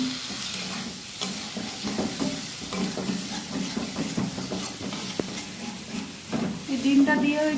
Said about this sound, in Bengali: এই ডিমটা দিয়েও একটু ভালো করে কষিয়ে নিতে হবে